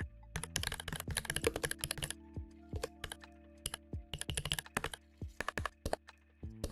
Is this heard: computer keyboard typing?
yes